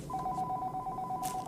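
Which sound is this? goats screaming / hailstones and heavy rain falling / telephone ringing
telephone ringing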